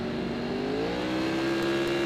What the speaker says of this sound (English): On inside, revs come up.